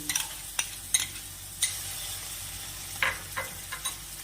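Mustard, poppy seed and green chilli paste fries in a pan of cooked-down spiced masala for a Bengali sorshe pabda fish curry, a soft steady sizzle broken by a few sharp spoon-on-pan stirring clicks, with no talking.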